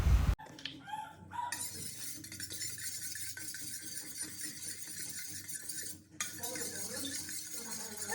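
Five eggs beaten in a bowl: rapid, fairly quiet clinking and sloshing as a utensil whisks against the sides, continuing steadily with a brief pause, without talk.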